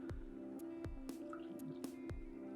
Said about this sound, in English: Pour a little coffee